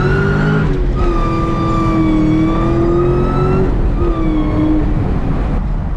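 A Cobra's engine drones loudly at high revs, its pitch holding and climbing, then dipping briefly as the throttle eases before the roar resumes.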